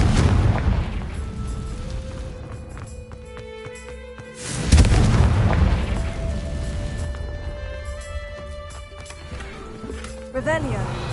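A Confringo explosion spell goes off in Hogwarts Legacy on PS5, a loud booming blast about midway that rolls into a long rumbling decay over game music and ambient effects.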